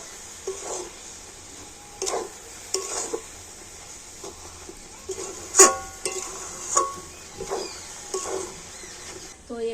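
Lentil and sugar mixture stirred in a pan for a Holi sweet, a spoon scraping and clinking against the metal in repeated strokes about once a second, close and moderately loud over a faint low hum, with no talking.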